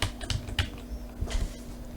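Someone types on a computer keyboard while entering staffing records, producing quiet, irregular key clicks in short bursts with brief pauses between them.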